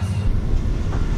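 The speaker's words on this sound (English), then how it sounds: "We are on the train to Birwa" A train running on rails toward Beerwah in Queensland, Australia, heard from on board as a brief, close, loud rumbling roll.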